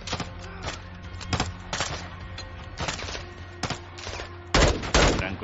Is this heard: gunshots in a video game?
yes